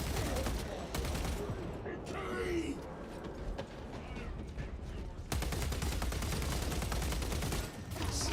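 Rapid sustained magazine-dump gunfire in Space Marine 2 player-versus-player combat, a dense continuous burst under mechanical clatter and game effects, with a brief break then resuming loud to the end.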